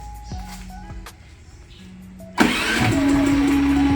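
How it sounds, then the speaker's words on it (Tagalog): Philking 4200 inverter silent generator starting up after a few quiet clicks and beeps: the engine catches abruptly and settles into a steady, close running hum with a sustained tone. "let's wait for the generator to turn on then"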